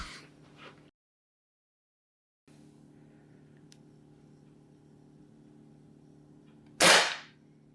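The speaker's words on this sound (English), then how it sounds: "You pull the trigger, it goes bang." A Novritsch SSG10 airsoft sniper rifle fires a single sharp, loud crack near the end, following quiet background hum and a short gap of silence.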